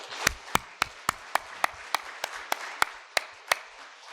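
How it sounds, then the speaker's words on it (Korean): A church congregation at a Sunday service claps in a slow, even unison rhythm, about a dozen crisp, loud claps spaced roughly a quarter second apart over a soft room background. "우리 모든 교회학교 어린이들을 위해서 한번 박수 한번 진짜."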